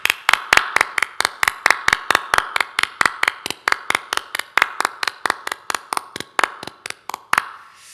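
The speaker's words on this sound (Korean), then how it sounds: "우리 한번 감사와 영광과 또 격려의 박수 하도록 하겠습니다" Rhythmic unison clapping from a church congregation, steady and evenly paced beats continuing for several seconds before a final clap and a brief pause, close and fairly loud.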